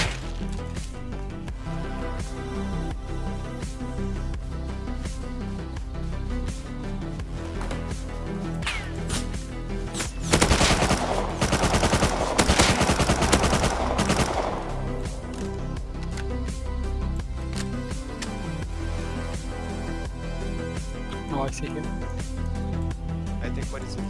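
Rapid gunfire from the survival video game Rust: sharp cracks and bursts repeating across the clip, densest in a loud middle stretch, with a player talking over the shots.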